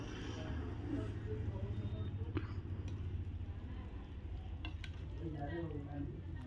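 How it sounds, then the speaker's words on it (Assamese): Singi fish going into a boiling potato curry, with a steady bubbling simmer and sizzle running throughout at moderate level, a few soft clinks of utensils, and a voice speaking over it. "আমাৰ আঞ্জাখন উতল আহিছে। এইবাৰ মাছখিনি দি দিম।"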